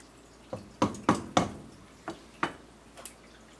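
A spoon knocking against a pot while vegetable soup with parsley and oregano is stirred, a handful of sharp clinks and taps in an uneven rhythm, close and fairly quiet.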